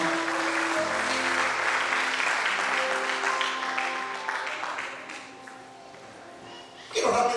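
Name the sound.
congregation applauding as an offering of applause to God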